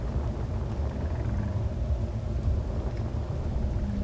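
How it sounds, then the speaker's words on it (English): Deep, steady storm rumble rolling along on the horizon in Space Engineers, a continuous low roar with faint crackle above it, heard alone throughout. "Looks like there's a storm on the horizon."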